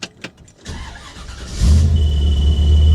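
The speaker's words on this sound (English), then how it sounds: "Definitely starts nice. Bit of a high idle." A 1956 Chevy Bel Air fitted with a Sniper 2 fuel injection setup cranks briefly, then catches and settles into a loud, steady, slightly high idle close by.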